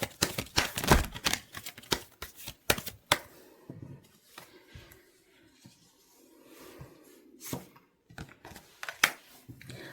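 Tarot cards are shuffled with a burst of quick, crisp snaps and flicks, then slower soft sliding and scattered taps as cards are drawn, close and quiet, with no talking.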